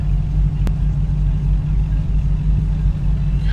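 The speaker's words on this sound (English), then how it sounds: "The idle's so smooth." A Dodge Hellcat idles with a deep, steady rumble close by, smooth and unbroken, and a brief faint tick near the start.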